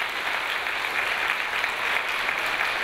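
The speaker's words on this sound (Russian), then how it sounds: "Ваши аплодисменты" An audience at an interpreters' event at Moscow State University breaks into steady, moderately distant applause, a uniform wash of clapping with no voices.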